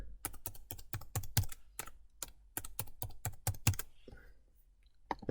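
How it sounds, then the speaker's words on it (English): A verification code is typed on a computer keyboard, a quick run of close, crisp key clicks in uneven rhythm, ending with a short pause and a final tap. "Type my verification code in."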